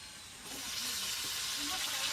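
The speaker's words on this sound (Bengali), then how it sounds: "এবার আলুর সঙ্গে টমেটোটা একটু ভালো করে একটু ভেজে নেব।" Chopped tomato sizzles with potatoes frying in a pan, a steady broadband hiss that swells and stays loud after the first half second, close by with no talk.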